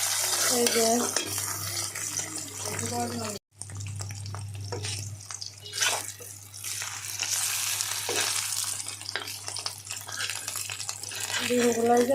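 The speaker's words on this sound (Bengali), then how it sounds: "বেগুনের সাথে ডিম ভাজে নিচ্ছি ডিম আমলেট" Steady sizzling and frying of egg omelette with eggplant in a pan fills the clip, with occasional scraping and a voice talking over it.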